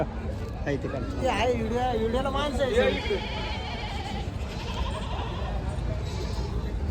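Goats bleat repeatedly at a large goat and sheep market in Chakan, Maharashtra, with wavering calls rising over a constant crowd murmur while people talk nearby.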